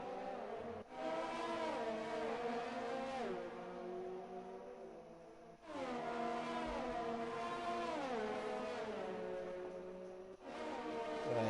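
F1 race cars in the F1 2020 video game on the formation lap at the Australia round make a loud, sustained engine whine that climbs through the gears in repeated surges, with brief dips between shifts and no talk over it.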